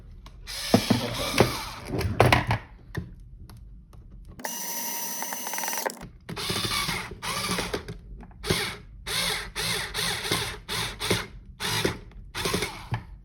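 A handheld power drill drives screws into parts of a foam blaster build, short whirring bursts alternating with pauses and ratcheting, one longer steady run midway, close and loud without talk.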